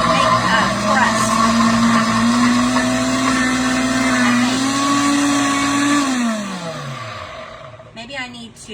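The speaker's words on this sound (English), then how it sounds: "now we are just going to turn this on and chop these things up, make a crust" A Pampered Chef blender whirs loudly and steadily while chopping crust ingredients, its motor pitch rising slightly before winding down, followed by a short clatter.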